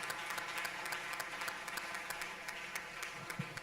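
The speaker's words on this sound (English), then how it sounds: "Big round of applause once again for the two startups" Audience applause for two startups honoured at a demo day awards evening, a steady, fairly faint wash of clapping from a crowd lasting the whole stretch without pause.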